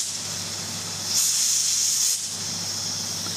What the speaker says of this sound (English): Does it always make that noise? It's releasing pressure.